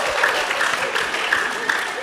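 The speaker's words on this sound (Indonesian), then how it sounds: "mungkin tepuk tangan dulu deh biar lebih meriah lagi" An audience claps at a university post-election discussion forum, a brief burst of moderately loud applause with scattered sharper claps, a voice briefly audible within it.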